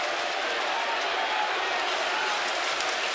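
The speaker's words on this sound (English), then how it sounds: "Fans get in their own little cheering competition" A steady roar from a baseball stadium crowd at a Red Sox at Orioles game in September 2011, with fans cheering continuously and loudly across the whole stretch, a dense wash of massed voices.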